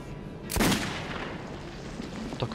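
A loud gunshot from the shooter game Metro 2033 booms and rings out into a lingering reverberant tail, followed by fainter, scattered shots near the end.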